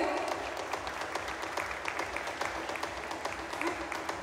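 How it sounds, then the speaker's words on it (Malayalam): A crowd at a film audio launch claps steadily for several seconds, fairly distant and even, with faint crowd murmur underneath. "ഒന്ന് ക്ലാപ്പ് ചെയ്യൂ"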